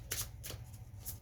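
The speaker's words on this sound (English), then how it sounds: "just shuffled 2 times" A deck of tarot cards being shuffled close up, with quick riffling bursts of crisp papery flutter, three short clusters over a quiet low hum and no talk.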